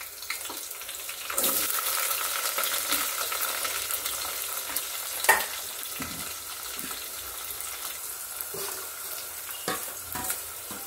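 Food fries in hot oil in a pan while cooking tomato rasam, a steady close hiss and crackle with scattered pops and the scrape of stirring, no talking.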